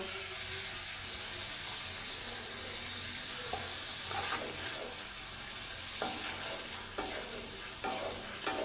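Small cleaned shrimp sizzling in a hot pan for a taro-stolon curry, a steady loud fry hiss broken by repeated scraping stirs of a spoon against the pan.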